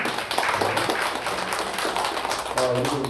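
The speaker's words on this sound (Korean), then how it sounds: "박수로 환영해 주시면 감사하겠습니다." Church congregation at a Korean Sunday worship service applauding to welcome guests, a loose wash of clapping with some tapping and a voice briefly heard near the end.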